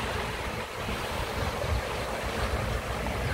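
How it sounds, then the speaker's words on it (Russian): Sea waves wash and splash below a seaside lookout in Berthier-sur-Mer, a steady broad roar mixed with wind buffeting the microphone, with no voices. "Волны плещутся внизу."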